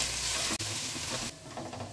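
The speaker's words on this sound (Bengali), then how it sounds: "কড়াইতে তেল গরম হয়েছে, এবার দিয়ে দেবো 2 পিটে রাখা পেঁয়াজ, পেঁয়াজটাকে ব্রাউন করে ভেজে নেবো।" Sliced onions go into hot oil in a wok, giving a loud, steady sizzle and crackle of frying that carries on with no talking.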